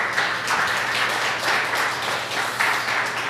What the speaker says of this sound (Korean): 권사님이 대신 인사할 때 축하의 박수 합시다